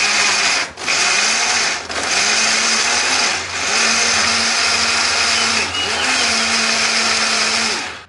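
A kitchen blender grinds shallots, garlic, turmeric and chili into a spice paste, a loud continuous whirring motor drone with a few brief dips in pitch and power as it runs steadily for several seconds, no voices over it.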